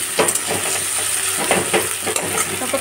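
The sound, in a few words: chopped onions and ingredients frying in hot oil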